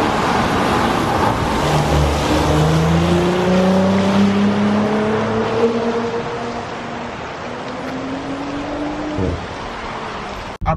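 Audi S5 Sportback driven hard on a road, its engine revving up through rising pitch sweeps with gear changes, loud and steady, then settling into a quieter cruising hum.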